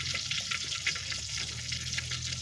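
Mustard seeds crackling in hot oil in a pan while cooking a Gujarati sev tameta curry, a steady close sizzle with small irregular pops throughout and no talking.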